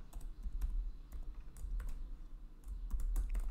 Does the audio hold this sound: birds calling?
no